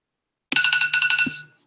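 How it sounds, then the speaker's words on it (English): A phone alarm ringtone, signalling the end of a live stream, plays a short, bright, warbling melody of quick repeated tones for about a second, close and clear, then stops. "So that was my alarm to end the live stream."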